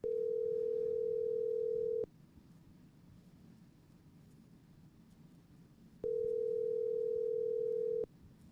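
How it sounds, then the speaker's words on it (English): A telephone call is being placed: a steady electronic ringing tone sounds for about two seconds, falls silent for several seconds, then repeats. There is faint background hiss and no talking. "Let me call him really quick."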